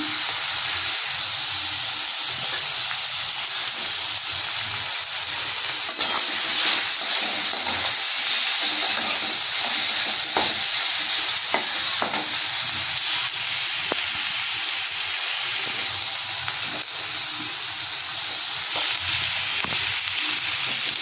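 Steady, close sizzling and crackling of carrots and capsicum frying in a hot pan, continuous throughout with occasional stirring scrapes and no talking.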